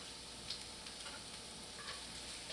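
Ginger spluttering in hot oil for broccoli beef gives a soft, steady sizzle with a couple of faint stirring clicks, quiet and close, no talk.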